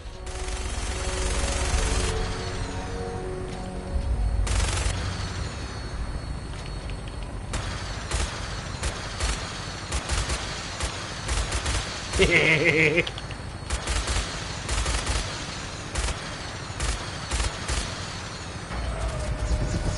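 Video game gunfire crackles in scattered bursts and single shots over a busy mix of mechanical clicks and game sounds, with occasional louder volleys spread across the stretch.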